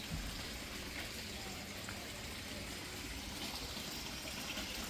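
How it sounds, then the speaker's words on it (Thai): A small garden fountain built as a little waterfall flows in a front-yard garden, giving a faint, continuous trickling wash. "น้ำพุทำน้ำตกน้อยๆนะครับ"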